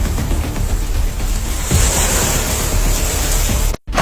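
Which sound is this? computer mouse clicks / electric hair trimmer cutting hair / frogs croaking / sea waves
sea waves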